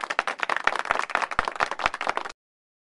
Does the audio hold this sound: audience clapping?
yes